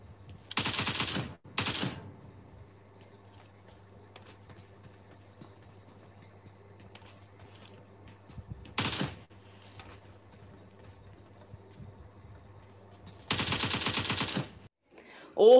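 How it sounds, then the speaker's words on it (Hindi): Short bursts of rapid automatic gunfire in PUBG Mobile at intervals: two near the start, one in the middle, a longer one near the end, over a low steady hum. "गोलियां बर्बाद करवा दिया ये सलेमी ने।"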